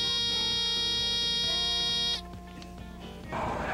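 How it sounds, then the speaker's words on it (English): A GasTech OX80 personal oxygen monitor sounds its alarm, a loud, steady electronic buzz lasting about two seconds before cutting off to quieter background noise. "its alarm is a loud buzzing sound"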